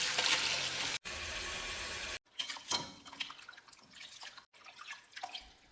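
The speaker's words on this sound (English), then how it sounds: "Now rinse the cabbage 3 times, changing the water each time to wash away the excess salt." Salted cabbage for kimchi rinsed in water, a few seconds of steady running flow cut off abruptly, then close, soft splashes and drips as the leaves are handled, with no talking.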